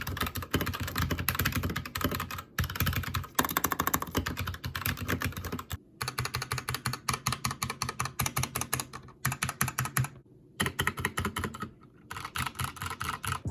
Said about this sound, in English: Here's a sound test, by the way, if you guys want to hear my keyboard